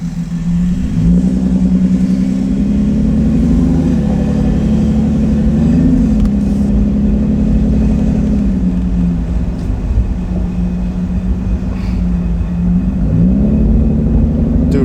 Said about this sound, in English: Dude, I'm driving the car.